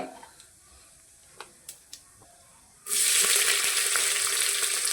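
Chopped onion dropped into hot oil tempered with cumin and mustard seeds, a few faint taps and then a loud, steady sizzle that bursts in and holds.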